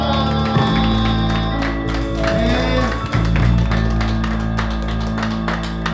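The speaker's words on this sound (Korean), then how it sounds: "하나님께 영광의 박수 올리겠습니다." Congregation applause at a Wednesday evening church prayer service, a dense continuous patter of clapping from many hands that fills the room, with music and voices sounding underneath.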